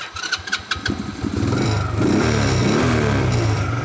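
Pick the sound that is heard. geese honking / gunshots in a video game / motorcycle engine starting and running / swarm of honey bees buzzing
motorcycle engine starting and running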